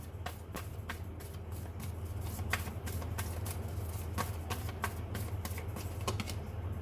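Tarot cards being shuffled and drawn during a reading, giving a steady run of soft papery flicks and riffles with sharper snaps spaced throughout, close and continuous over a low background hum, no voice.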